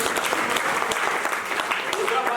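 An audience applauds at a training session in Meerut, loud continuous clapping filling the room, with a speaker's voice faintly mixed in beneath the applause.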